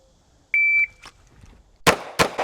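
An electronic shot timer gives one sharp, steady start beep at an outdoor shooting range, followed moments later by two loud, close gunshots from a Glock pistol.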